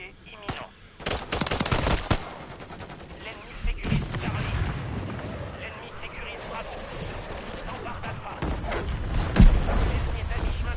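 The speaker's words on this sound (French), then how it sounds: "Je me fais tirer dessus." Bursts of gunfire aimed at the player in a shooter video game, with rapid automatic volleys and scattered single shots, loud and close at first and then continuing more sparsely under game noise.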